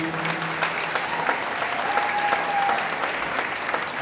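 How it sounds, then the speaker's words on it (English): Steady audience applause at a Brooklyn fashion show after a designer's collection, a full, continuous wash of clapping with faint crowd noise and a brief whistle-like tone partway through. "Let's give another round of applause to Kaylin"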